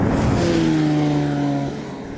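A Porsche 911 with a six-speed manual gearbox, its engine loud and close, holding a steady tone that slides gradually downward during a downshift, then eases off.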